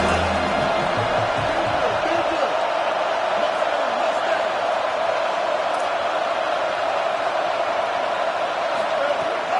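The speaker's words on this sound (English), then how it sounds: "Big third down as the crowd gets behind this defense" A roaring stadium crowd in an American football video game, a dense, steady wall of cheering noise that holds throughout, with a low rumble fading in the first seconds.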